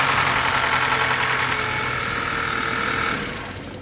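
An Audi A5 with the 2.0 TFSI engine cranks to its first start after repair work and settles into a steady, even idle, close and continuous with no voices, fading slightly at the very end.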